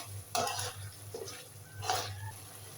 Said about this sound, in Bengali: তো কিছুক্ষণ কষানোর পর একটু নেড়ে দেবো আমি